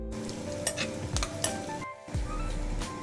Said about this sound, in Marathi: यात जाईल मिरची आणि शेंगदाण्याची भरड। 1 सेकंद परतून घेऊया।